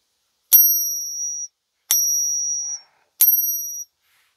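A silver coin is struck three times, each tap giving a bright, sustained high ping that rings for about a second before stopping, with silence between the strikes.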